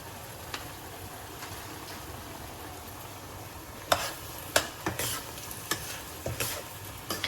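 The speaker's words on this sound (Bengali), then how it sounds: "ভালো করে আগে কষুক, গন্ধটা উঠে" Spices with Kashmiri red chili powder fry in a pan, a steady low sizzle running throughout while several sharp stirring scrapes and clinks of a spoon against the pan punctuate the second half.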